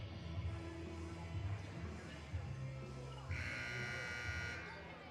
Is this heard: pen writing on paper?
no